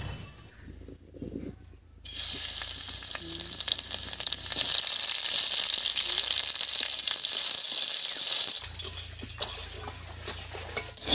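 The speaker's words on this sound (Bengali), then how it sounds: "তেল গরম হয়ে গেছে, তেলের মধ্যে দেব কয়েকটা থেতো করা রসুন আর কয়েকটা চেরা কাঁচা লঙ্কা" Crushed garlic and slit green chilies hit hot mustard oil in a wok, bursting into a loud, steady sizzle after a brief quiet start that holds for the rest of the span.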